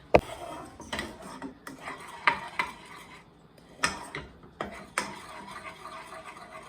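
A utensil stirs butter and flour together in a pan while making a roux for dinners using leftover Christmas ham, with intermittent scraping and clinks against the metal and short pauses between strokes.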